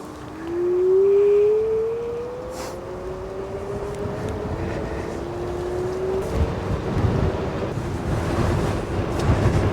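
A Gotrax GMAX Ultra electric scooter rolls downhill with its motor's rising whine drifting upward in pitch over a steady rush of wind buffeting the microphone.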